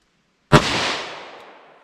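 A single close gunshot firing an Inceptor ARX plastic bullet from a 10mm or .357 Magnum: one sharp loud crack after half a second of silence, then a long reverberant tail fading outdoors.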